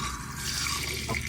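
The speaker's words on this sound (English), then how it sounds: "that will pump around your flush fluid, which is just your fresh water" Fresh water pumped through a motorhome cassette toilet flush, a steady close rush of running liquid with drips, heard alone.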